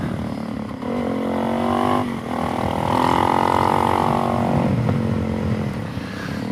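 A Suzuki DRZ400SM supermoto's single-cylinder engine revs up high, dips briefly, then climbs again in a sustained loud rev before easing off, with an occasional pop and no voices.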